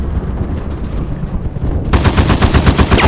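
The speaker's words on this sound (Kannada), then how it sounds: "ನಾನು ಸುಮ್ಮನೆ ಬ್ಲೈಂಡಾಗಿ ಶೂಟ್ ಮಾಡ್ತೀನಿ" Automatic gunfire in the video game Polyfield 2, a rapid rhythmic burst of loud shots starting abruptly after a stretch of quieter ambient game noise.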